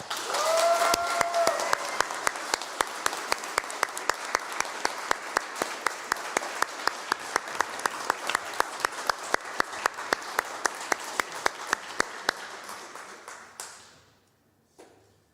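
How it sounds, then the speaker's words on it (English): Students at a high school Year 12 presentation assembly applaud award recipients, a long crowd ovation with sharp, rhythmic unison claps emerging in a steady beat before the applause fades out near the end. "Can I get everyone to give all those recipients one more round of applause, please?"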